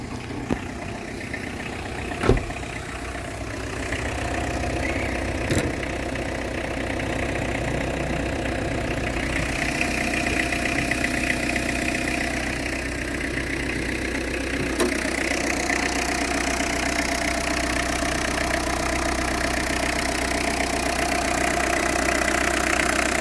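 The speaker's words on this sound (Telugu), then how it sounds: "ఇంజన్ అయితే బీటింగ్ చాలా బాగుందండి, ఎలాంటి బ్యాక్ కంప్రెసర్ అయితే లేదు" A 2014 Tata Indica Vista's engine idles steadily for over twenty seconds, heard up close as a low, even rumble. A few faint clicks and knocks come from under the hood.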